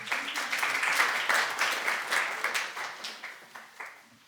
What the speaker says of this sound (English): So give them an extra round of applause